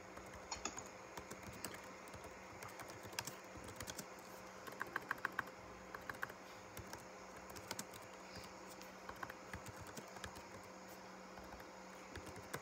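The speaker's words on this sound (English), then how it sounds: "Let me just type it real quick." Fingers type quickly on a computer keyboard, soft rapid clicking with a few louder key strikes over a faint steady room hum.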